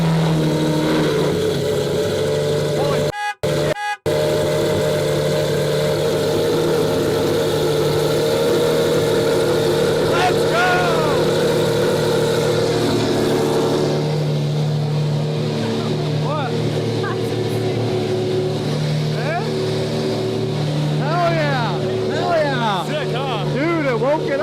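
A car engine runs loudly and steadily close to the microphone, with a brief dropout early on and rising whine sweeps later as it revs.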